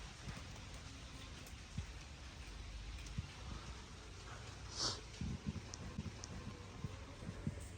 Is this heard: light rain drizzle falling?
yes